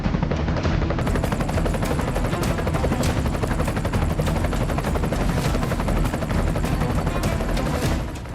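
A US Air Force attack helicopter roars steadily while rapid machine-gun fire rattles in dense, continuous bursts over it, loud and close, with no speech heard.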